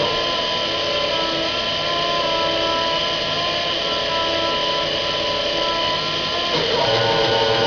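Machine spindle spinning steadily at speed without cutting threads, a constant close whine with layered tonal hum that holds level throughout, no talking.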